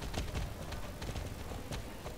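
Rapid, rhythmic hoofbeats of a horse in the video game Star Stable clip-clopping along at a steady pace, fairly close and continuous throughout.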